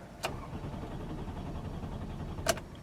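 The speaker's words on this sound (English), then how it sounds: "it just cranks and won't start" A car with a worn transponder key cranks without starting, a steady low churning rumble bracketed by two sharp clicks, close and moderately loud.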